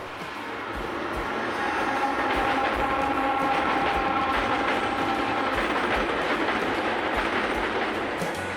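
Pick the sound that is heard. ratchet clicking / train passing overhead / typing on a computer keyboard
train passing overhead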